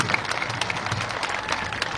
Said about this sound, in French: j'aimerais qu'on applaudisse très très fort.